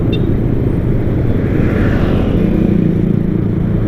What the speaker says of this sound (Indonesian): Ini suara-suara motor ataupun mobil ini kedengaran apa enggak ya?